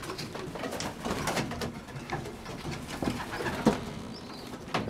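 Young pigeons in a loft cooing softly amid shuffling and rustling, with a steady murmur of coos and occasional flutters, close but not loud.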